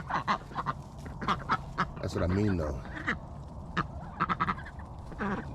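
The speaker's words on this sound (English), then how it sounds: "Ducks." Several short duck quacks come in scattered bursts, close by, with a longer honking call in the middle and a person talking briefly.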